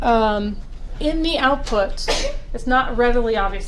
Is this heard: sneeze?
yes